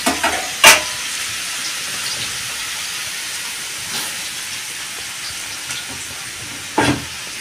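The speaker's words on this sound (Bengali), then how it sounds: "তারপরে গাজরটা ভাজছি, ভালো করে ভেজে নেবো এগুলো।" Carrots fry in a pan at home for fried rice, giving a steady soft sizzle with a few sharp stirring clinks near the start and end, no talking.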